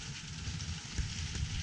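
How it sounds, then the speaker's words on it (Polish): Heavy rain pours steadily during a thunderstorm in a Polish forest near Ubrodowice, a dense, continuous hiss with scattered louder patters, fairly close and with no voices. "Burza leje mocno."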